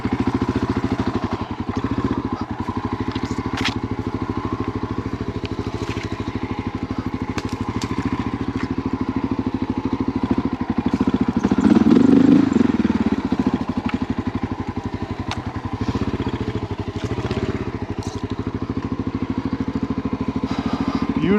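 A Honda XR dirt bike climbs a hill on a steep ravine trail with the clutch let almost fully out. The engine holds a steady, loud, low chugging throb with some rattle and crackle, swelling briefly midway.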